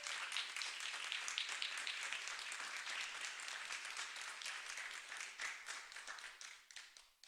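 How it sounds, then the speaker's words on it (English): Steady, dense audience applause at a county freeholder meeting honoring a young person, sustained for several seconds and gradually thinning toward the end, with no talk over it. "let's give this young lady a round of applause"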